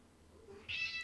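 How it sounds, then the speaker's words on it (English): A pet cat gives a single loud, sharp meow close by indoors, rising abruptly out of quiet room noise near the end. "This cat, you guys."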